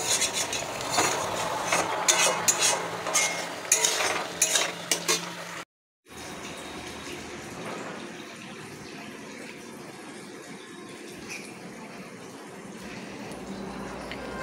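A bathroom basin tap runs steadily after a small child turned it on, water splashing with clattering knocks at first, a brief break, then an even rushing flow continuing alone.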